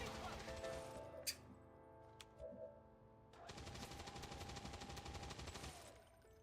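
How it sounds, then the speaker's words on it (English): Gunfire in the video game XCOM 2: rapid bursts of automatic fire and sharp cracks, a loud volley, a pause with a couple of single shots, then another sustained burst, all quiet in the mix. "You're gonna shoot at Turdy."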